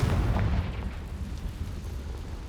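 A Confringo fire spell explodes in the video game Hogwarts Legacy, a deep booming blast at the start that fades into a low rumble over a couple of seconds, with no talking.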